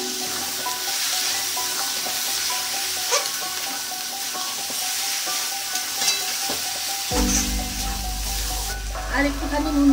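Sattu and poppy seed paste frying in a pan, a steady sizzle with intermittent stirring scrapes, near and continuous, joined by a low hum in the last few seconds.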